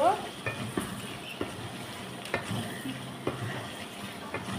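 Chicken being stir-fried in a pan with garlic fried in oil beforehand, a steady close sizzle with periodic scraping stirs roughly every second.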